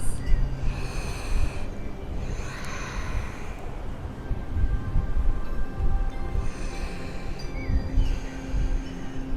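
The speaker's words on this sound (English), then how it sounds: "3 deep breaths." Deep, audible breaths during a full-body yoga flow, with loud inhales and exhales following one another in a slow rhythm, close and alone.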